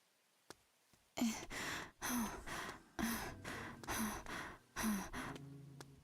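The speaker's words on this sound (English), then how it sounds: "Exaggerated breathing sounds." Exaggerated, gasping breaths from a video game character come in five loud, evenly spaced heaves, each a sharp intake followed by a breathy release, with no talking over them.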